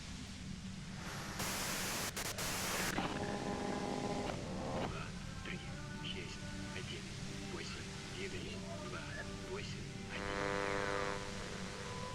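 Radio white-noise static in the Disco Elysium video game, a steady broadband hiss that swells in loud bursts, with game music tones and a voice talking over it throughout.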